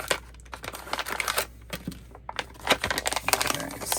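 The outer packaging of an album is opened by hand, with close, continuous crinkling and crackling of wrapping broken by sharp snaps and tearing rustles.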